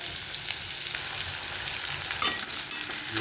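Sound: onion sautéing in oil for potato bhaji

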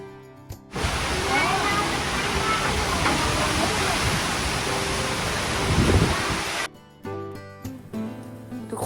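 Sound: heavy rain

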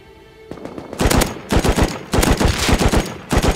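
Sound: gunfire in the video game Rust

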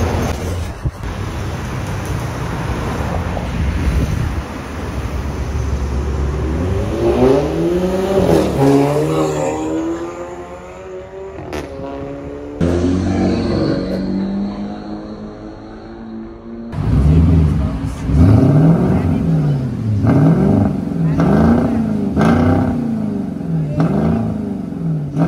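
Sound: car accelerating while leaving a gas station

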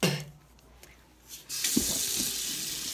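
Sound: rinsing toothbrush under running tap water

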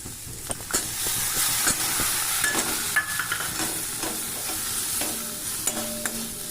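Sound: vegetables and spices frying with mustard paste

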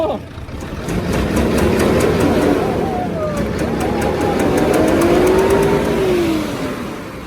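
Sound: Isuzu truck 6HK engine revving

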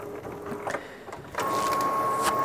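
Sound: HP DeskJet Ink Advantage 3525 printer printing a report

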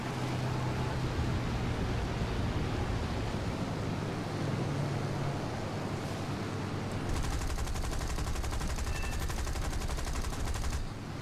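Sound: F2A-1 aircraft machine guns firing in video game War Thunder

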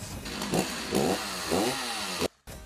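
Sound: Bell & Howell Tac-Shaver electric shaver trimming

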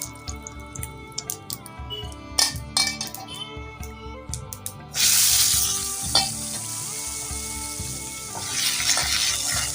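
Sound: cumin and mustard seeds tempering in hot oil

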